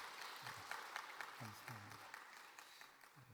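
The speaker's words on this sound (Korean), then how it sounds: "다시 한 번 더 우리 박수하겠습니다." A church congregation claps at a Wednesday worship service, a moderate steady patter of applause with voices speaking over it.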